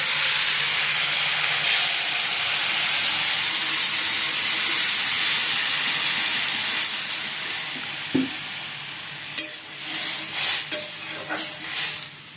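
Water poured over tomatoes in a hot pan sets off a loud, steady steam hiss and sizzle that fades slowly, with a few faint clinks of cookware near the end.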